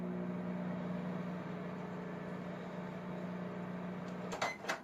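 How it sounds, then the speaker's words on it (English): A microwave oven runs while reheating ramen noodles, giving off a steady, fairly loud mechanical hum throughout, with a few clicks and a short rattle near the end. "I'm going to put it back in the microwave for a couple minutes"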